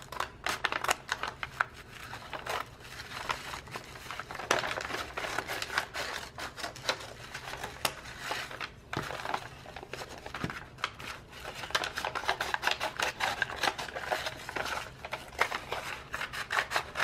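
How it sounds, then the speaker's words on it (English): Scissors snip through a brown paper bag that is being taken apart for craft paper, giving a steady run of close, crisp cuts with paper crinkling and rustling between them, with no talk. "I'm just going to take my scissors"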